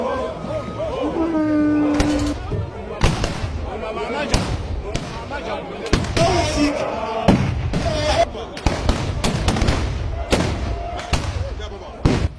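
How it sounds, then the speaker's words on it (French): Rifle shots fired by a royal army to mark the end of a ceremony, several sharp loud cracks at uneven intervals, heard outdoors over a continuous crowd murmur and voices. "C'est avec des coups de fusil que l'armée du roi annonce la fin du procès."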